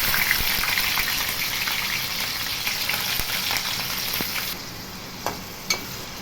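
Onion paste and green chillies frying in a few spoons of hot oil, a steady close sizzle with dense crackling throughout, a couple of sharper pops near the end and no talking.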